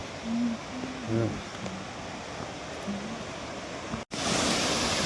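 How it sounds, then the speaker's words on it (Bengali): Uski waterfall in Simlipal National Park roars as a steady, broad rush of falling water, with a voice speaking briefly over it early on and the water surging louder near the end. "এই যে উস্কি ওয়াটারফল, কেমন লাগছে?"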